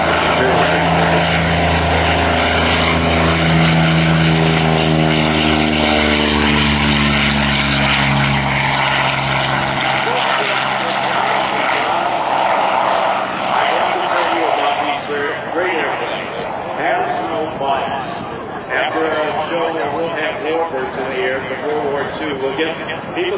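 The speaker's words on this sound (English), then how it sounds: "another Curtis P-40 going for a takeoff" A Curtiss P-40 propeller plane at an airshow takes off with a loud rising engine drone that sweeps upward in pitch and then fades into a rougher roar, under steady announcer talk.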